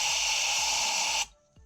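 Compressed air hisses loudly and steadily into the spark plug well of a Ford Crown Victoria, then cuts off sharply and leaves a faint tick and near silence.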